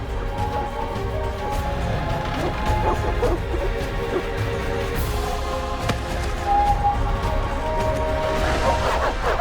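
Dogs attacking in The Witcher video game near the outskirts of Vizima, with a dense, continuous din of snarling, crashing and scuffling, loud and close throughout.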